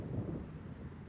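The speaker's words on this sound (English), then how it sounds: "as you can hear, it's decently windy" Wind blowing steadily across the microphone at a disc golf park, a low, continuous buffeting rumble with no voices.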